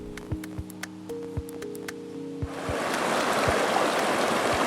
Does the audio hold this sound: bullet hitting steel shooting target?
no